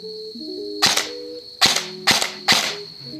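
Four sharp, loud cracks from a gun firing Angel custom firework tracer rounds at an outdoor range, in an uneven rhythm, each with a brief ringing tail over a steady high tone.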